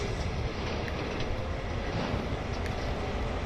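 A train engine rumbles continuously at steady volume in the Train Sim World 2 game, a dense broadband drone with faint rail clicks and no voices.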